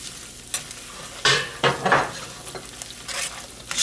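Cooked pasta stirred into a creamy raw-egg carbonara mixture in a pan, a few wet scraping bursts of stirring over a faint sizzle, close by, with no voices.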